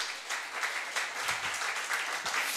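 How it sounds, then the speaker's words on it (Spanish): A church congregation applauds during a year-end Sunday service, dense steady clapping from many hands filling the room with faint voices underneath. "Dele un aplauso Señor."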